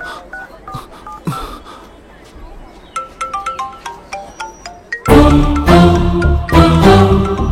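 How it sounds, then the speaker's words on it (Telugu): A phone ringtone plays loudly, first as a sequence of clear beeping melody tones and then as a much louder, fuller ringtone burst that continues to the end, in a dramatic film scene. "ఫోన్ రింగ్ అవుతుంది"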